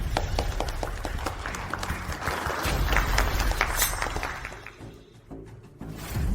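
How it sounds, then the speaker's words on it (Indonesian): Audience applause greeting group Lin as they take the stage to present a project proposal: dense, steady clapping from a crowd that dips briefly near the end, then swells again. "mari kita berikan tepuk tangan untuk grup Lin naik ke panggung"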